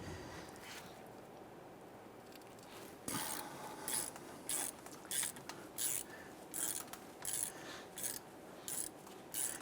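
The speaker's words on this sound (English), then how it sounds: "I'm going to go ahead and loosen these." A socket and ratchet loosen hub bolts on a 1999-2004 Jeep Grand Cherokee, giving a run of rhythmic clicking ratchet strokes in short regular bursts, close and fairly loud after a quiet start.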